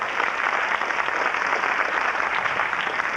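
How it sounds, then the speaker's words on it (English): An audience gives a sustained round of applause, dense and steady throughout, fairly loud with no talking over it. "Let's give her a nice big round of applause."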